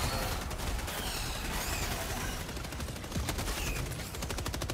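Rapid automatic gunfire in Helldivers 2 during a frantic bug fight, dense overlapping bursts and crackling shots running continuously at moderate level with chaotic game effects mixed in.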